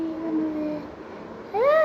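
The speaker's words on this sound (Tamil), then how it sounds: "அது பூனைக்குட்டி அழகாக இருக்கே" A black kitten in the horror game Fear to Fathom gives a soft drawn-out meow, then a brief pause, then a second, higher rising meow, close and clear over faint background hum.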